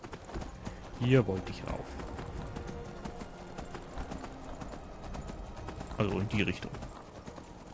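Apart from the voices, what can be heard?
horse hooves clip-clopping in the video game Skyrim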